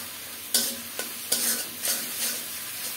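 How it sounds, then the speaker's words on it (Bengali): Eggplant curry with tomato, onion and chili powder is stirred and fried in a pan, a steady sizzle broken by four or five scraping strokes of a spoon, close and without talk. "এবার ভালোভাবে কষিয়ে নেব,"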